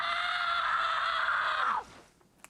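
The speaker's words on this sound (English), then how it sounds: "that was a really good scream" A long, loud, sustained scream from a scene in the Percy Jackson TV series, held steadily before breaking off into near silence.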